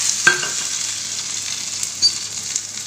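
Mustard oil tempering in a pan gives a soft, steady sizzle with a few sharp pops and spits, heard close and alone without talk.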